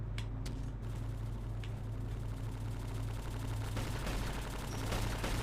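Gunfire in the video game CrossFire, rapid rhythmic bursts of automatic shots over a steady dense game background, with a few sharper isolated cracks standing out.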